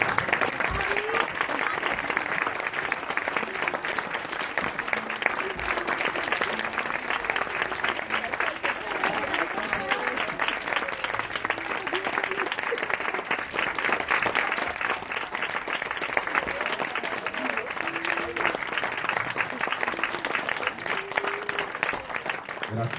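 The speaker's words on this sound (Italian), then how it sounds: "Fatemi un grande applauso." A hotel audience claps through a continuous, dense burst of applause at the closing-night entertainment show, with steady crowd clapping for the whole stretch and voices faintly mixed beneath it.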